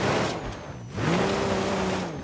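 BMW M5 with four-wheel drive in the driving game BeamNG.drive, climbing an off-road village track, its engine note dipping and then rising into a steady loud drone with rough road rumble, close and continuous.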